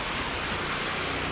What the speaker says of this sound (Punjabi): ਇਹ ਪਹਾੜਾ ਜਿਹੜਾ ਪਾਣੀ ਡੱਗਦਾ ਦੇਖੋ